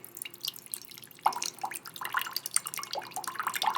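Tap water running and splashing into a water bottle as it fills, an uneven burbling trickle that grows busier and louder partway through, close and alone.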